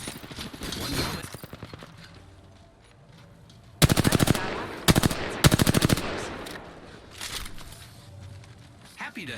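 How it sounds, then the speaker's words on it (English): Gunfire in the Apex Legends video game during a ranked match: several loud rapid-fire bursts of automatic weapons come in quick succession in the middle, with scattered shots and game voice lines around them. "The enemies are shooting at me."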